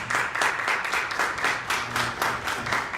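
Congregation clapping at a church service, a steady sustained round of applause at moderate volume with no talk over it.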